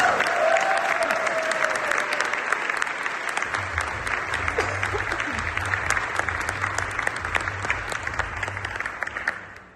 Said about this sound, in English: can my amazing community engagement team raise their hands so we can all applaud them?